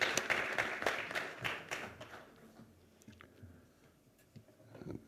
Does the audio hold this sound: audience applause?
yes